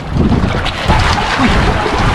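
Wind buffets the microphone over a steady motor rumble and splashing water while riding in a small outrigger boat across open water.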